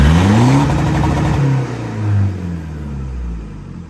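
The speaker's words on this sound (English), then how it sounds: "I could two-step the van now" A Toyota 4x4 van engine revs hard against two-step launch control, a loud close rumbling drone that rises and falls in pitch with the throttle and holds steady throughout, with no talk.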